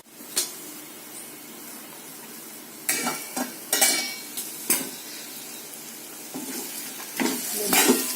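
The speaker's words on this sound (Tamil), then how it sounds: "இடையில கிண்டி கிண்டி விட்டுருங்க" A spoon stirs potato kara curry frying in a pan, a soft steady sizzle broken by scraping clinks against the pan at irregular intervals, fairly quiet and close.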